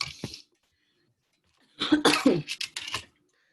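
One short cough, then after a pause a rapid fit of several harsh, throaty coughs, close and loud, with no talking.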